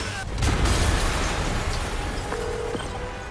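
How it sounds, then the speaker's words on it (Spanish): A big explosion booms in Spider-Man Remastered, a heavy blast that opens loud and then rolls into a sustained rumbling roar of debris and fire. "Yuri, una explosión acaba de..."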